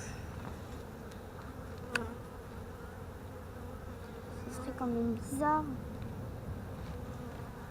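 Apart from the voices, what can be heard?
honeybees buzzing around a beehive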